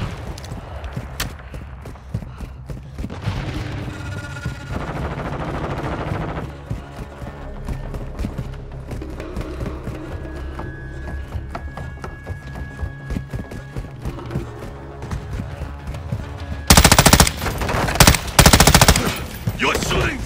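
Gunfire in the video game Call of Duty Modern Warfare 2, with bursts of rapid automatic fire and scattered shots over battle noise and a steady backdrop, building to a loud, dense volley near the end.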